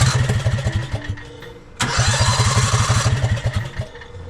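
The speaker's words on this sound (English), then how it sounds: "It sputtered like it was running out of fuel" A Harbor Freight Predator V-Twin engine on a golf cart runs loud and close with uneven, chugging pulses, surging after a brief drop as it sputters from running out of fuel.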